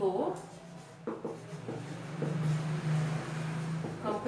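Pen or chalk strokes during a Hindi-medium class 7 math lesson, with scratchy writing sounds in short bursts and steady rubbing, heard under a teacher's speaking voice.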